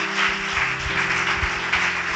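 Church congregation at a Sunday service applauding, a dense, steady wash of clapping over a sustained music bed with a low hum, continuous throughout.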